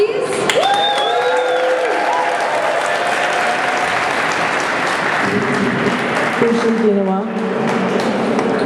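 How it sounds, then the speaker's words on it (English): Rally crowd in the Minnesota State Capitol rotunda bursts into sustained applause and cheering, a dense wash of clapping with scattered whoops and a few voices calling out over it. "Big round of applause, please."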